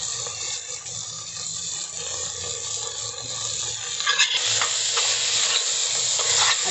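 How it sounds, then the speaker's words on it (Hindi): Keema-stuffed okra is stir-fried with lemon juice and roasted coriander-cumin powder in a pan, making a steady soft hiss of frying with light stirring scrapes that grow a little louder and brighter toward the end. "इसे अच्छी तरह से भून लेंगे"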